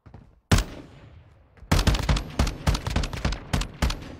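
ACR assault rifle fire in Call of Duty: one loud sharp shot, a pause with a decaying tail, then a rapid string of crisp close bursts in quick succession.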